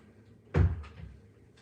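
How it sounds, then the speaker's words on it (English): A door is pushed shut close by, giving one solid thud with a short rattle as it settles, then a couple of faint knocks in a quiet room. "Close this door."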